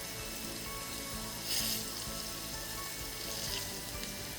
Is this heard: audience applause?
no